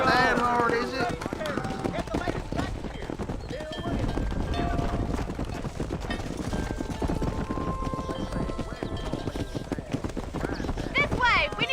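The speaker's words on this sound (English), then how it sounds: "tô aprendendo a pilotar cavalo ainda" Rhythmic clip-clop of horse hooves during riding in Red Dead Redemption, steady and close throughout, mixed with game music and voices speaking over it.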